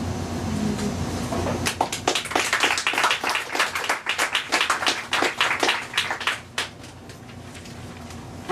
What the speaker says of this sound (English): please hold your applause or I won't be able to finish all the poems